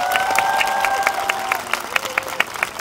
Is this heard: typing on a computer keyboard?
no